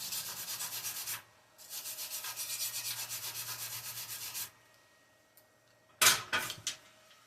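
A wire brush scrubs back and forth across a fresh stick weld in rapid rhythmic strokes, two long bursts of harsh scraping followed by a brief pause and a few sharper final scrubs, close and fairly quiet.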